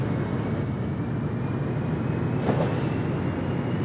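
A train rolling in the Rails Unlimited game, a steady low rumbling drone that stays even throughout with a faint brief clack midway.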